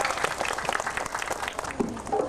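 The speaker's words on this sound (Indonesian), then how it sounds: "marilah tepuk tangan buat John Tralala Group dan Hendra Wijaya" An audience at an evening Banjar madihin entertainment show in Sungai Buluh applauds in a dense, continuous wash of clapping, with some voices mixed in.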